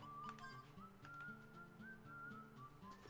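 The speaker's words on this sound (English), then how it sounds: "This one requires, sort of, a call whistle, of all things." A call whistle blown in the video game Wild Arms 3: a steady, clear whistling tone that holds for about three seconds over background game music, moderately loud and continuous.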